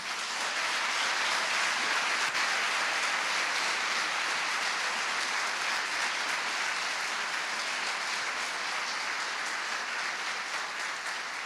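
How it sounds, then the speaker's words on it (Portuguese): A church congregation claps for Jesus during a Portuguese-language evangelical sermon, producing a sustained, dense wash of applause that holds steady and fairly loud throughout, with no voices on top. "Dá uma salva de palmas para Jesus."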